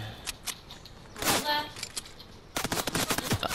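Video game gunfire aimed at a player: a few scattered shots early on, then a fast, close burst of automatic fire rattling in the final second.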